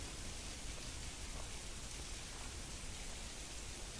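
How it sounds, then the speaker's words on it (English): Steady rain in the video game Fallout London, an even, unbroken hiss that stays at the same moderate level throughout with no voices. "I do want to get out of the rain"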